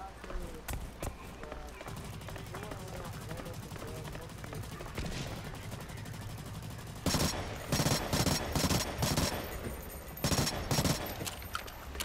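Rapid bursts of submachine gun fire in Blacklight: Retribution, with fast crackling shots clustered in short volleys over a steady bed of game noise and faint voices.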